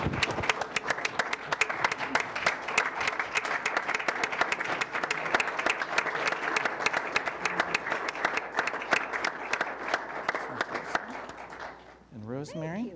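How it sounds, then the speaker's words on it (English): Sustained applause fills a city council meeting room in Cedar Falls, dense steady clapping from the audience for about twelve seconds before fading, with a voice beginning to speak at the very end. "So we can give a round of applause to them for their service."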